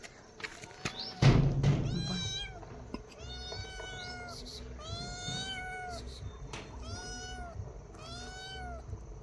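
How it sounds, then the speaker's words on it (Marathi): A house cat meows repeatedly at a family home, a series of distinct, fairly close calls spaced every second or so over steady background noise, after a brief loud thump. "आपली मांजर बघा म्याव म्याव करते"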